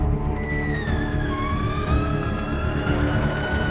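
An ambulance siren wails on a road, its sweeping tones gliding upward over a steady background rumble, continuous and fairly loud throughout.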